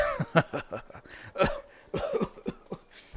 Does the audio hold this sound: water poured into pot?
no